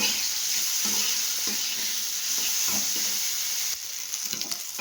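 Prawns frying in hot oil, heard as a loud, steady, close sizzle with faint soft knocks and stirring underneath, easing slightly toward the end.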